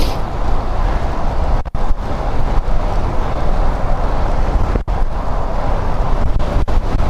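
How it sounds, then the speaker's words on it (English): Strong headwind buffeting a microphone outdoors, a loud continuous low roar of wind noise that holds steady for several seconds with a couple of brief dips. "now it's an even worse headwind"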